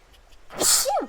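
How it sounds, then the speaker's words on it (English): A single close, loud sneeze in the video game Zoo Tycoon 2 with a sharp hissing burst followed by a short voiced tail. "All these flowers are making me sneeze."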